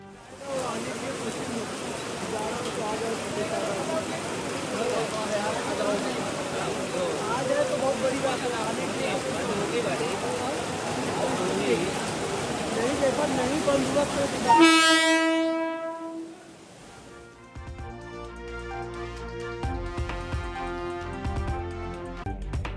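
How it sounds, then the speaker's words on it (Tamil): A loud, continuous rushing roar of a passenger train ploughing through floodwater over submerged tracks builds for several seconds, then a blaring horn cuts in before the noise drops away. "வெள்ளத்தில் மூழ்கிய தண்டவாளத்தில் தண்ணீரை கிழித்தபடி சீறி பாய்ந்து சென்ற பயணிகள் ரயில்"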